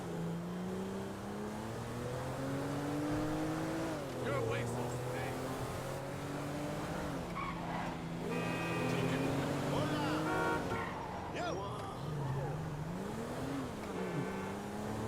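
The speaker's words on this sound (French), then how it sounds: "Là, c'est une Audi A6. Les anciennes, je pense, c'est la version C6" An Audi A6 of the C6 generation in GTA 5, its engine droning steadily throughout with rising and falling revs, loud and continuous beneath game music and ambient effects, with a voice talking over it.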